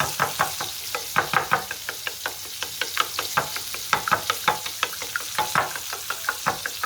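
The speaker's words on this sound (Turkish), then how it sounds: "Yumurtamızı şöyle güzelce karıştıralım." Eggs whisked briskly in a bowl, a fast run of evenly spaced knocking clicks as the whisk strikes the bowl's sides, close and fairly loud, with no talking.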